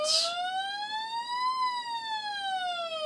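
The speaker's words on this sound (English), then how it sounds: "the sound of a siren as you hobble off the screen" A siren from the 1987 computer game Eddie Kidd Jump Challenge sounds after a stunt-bike crash off the ramp: a loud, clean electronic tone that sweeps slowly up and then back down, steady and alone, after a short noisy burst at the start.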